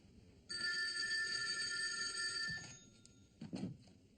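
A telephone rings in a sitcom living room, one sustained electronic ring tone followed by a shorter burst, fairly faint and alone without speech.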